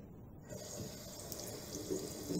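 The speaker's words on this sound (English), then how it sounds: "you're going to just want to wet your brushes" Water runs steadily from a tap into a bathroom sink while makeup brushes are wetted, a soft continuous splashing stream heard close and alone.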